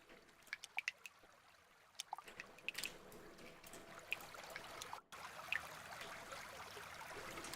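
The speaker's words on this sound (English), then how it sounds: "The soothing sounds of a waterfall." Waterfall ambience plays during a tabletop game session, a soft steady wash of running water with small drips and splashes, faint and continuous throughout.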